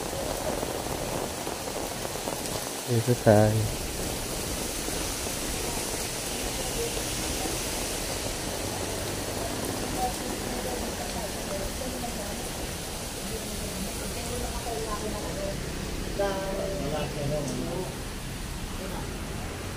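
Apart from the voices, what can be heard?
rain falling at Manila Zoo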